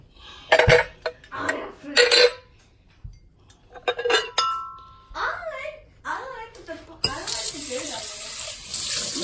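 Water from a tap runs in bursts into a cooking pot for okra stew, with clinks of dishes and utensils between pours and a person talking in the kitchen.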